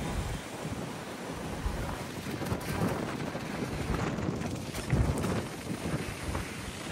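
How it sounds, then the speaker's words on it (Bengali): Sea waves roll in at the Cox's Bazar beach near the Marine Drive viewpoint, where boats are pulled up, a broad rushing surge mixed with gusty wind buffeting the microphone. "এখানকার পানিটা একদম পরিষ্কার আর স্রোত ভালো, ঢেউ অনেক বড় ঢেউ হয় এখানে"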